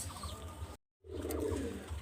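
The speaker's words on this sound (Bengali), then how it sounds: "এটা হলো গোল্ডেন কবুতর" Golden pigeons, ringed on the legs, coo in low, soft murmurs that run steadily through the moment, broken by a short silent gap in the middle.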